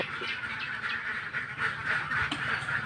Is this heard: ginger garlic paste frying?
no